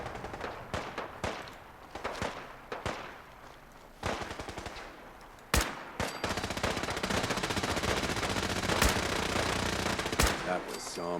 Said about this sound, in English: This guy's shooting that Gatling laser everywhere